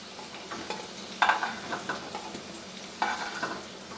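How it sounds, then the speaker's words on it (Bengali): Dried red chillies, bay leaf and Bengali five-spice frying in oil in a kadai, a soft sizzle broken by two sharper crackling bursts as the spices hit and are stirred. "কড়াইয়ে আমি আরও 2 টেবিল স্পুন তেল দিলাম, এর মধ্যে দিয়ে দিলাম শুকনো লঙ্কা, তেজপাতা আর দিলাম 5 ফোড়ন"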